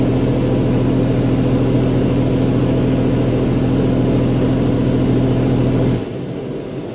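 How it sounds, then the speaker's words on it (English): High-pressure rinse jets spray inside the Oasis Typhoon automatic car wash in Eureka, Missouri: a loud, steady hissing blast over a deep pump hum that runs for about six seconds, then cuts off to a quieter drizzle. "I guess the back is doing high pressure rinse"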